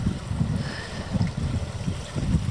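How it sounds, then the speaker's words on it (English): Steady sea wash surrounds a sailing boat off Zakynthos in Greece, a continuous low rumbling swash with gentle swells of loudness and some wind mixed in, with no voices. "So weird, you can like hear the sea."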